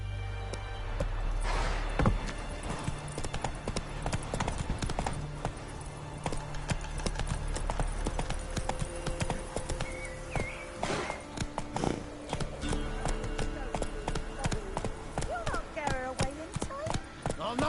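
Horse galloping in The Witcher 3 video game: steady rhythmic hoofbeats clop close by throughout, with game sounds and occasional voices over them.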